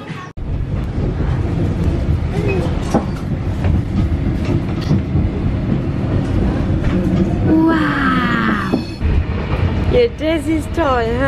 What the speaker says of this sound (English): we're at the train station right now